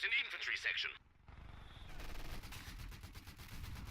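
Mortar fire in a WW2 strategy video game set in the Battle for Caen, with a loud burst of blasts and a sustained rumbling barrage of explosions that comes after a short lull.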